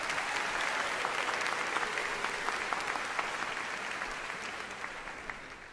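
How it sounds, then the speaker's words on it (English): Audience applause at a high school graduation ceremony, dense continuous clapping that gradually fades over a few seconds. "Please join us in giving them a round of applause."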